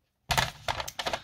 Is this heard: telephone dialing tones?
no